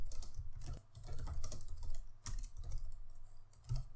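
Typing on a computer keyboard while filling in an AWS security group description: quiet, close, continuous clicking of keys in uneven bursts with short pauses, alone without talk.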